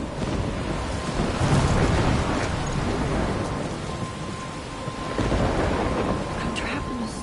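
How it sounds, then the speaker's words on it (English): A thunderstorm in the video game Life Is Strange, with heavy rain hissing constantly and deep rolling thunder swelling twice, loud and enveloping, with no talking. "I'm trapped in a storm?"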